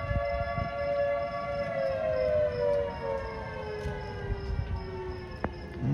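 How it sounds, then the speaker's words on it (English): Civil defense sirens sound a tornado warning in Ulysses, Kansas, a steady wailing tone with slowly falling pitch and layered harmonics that carries loud and continuous throughout, with outdoor rumble beneath and no voices. "The sirens are going again."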